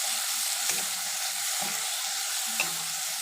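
Assamese-style mutton curry spice mix sizzling steadily in a hot pan, with three soft stirring scrapes breaking through the constant frying hiss.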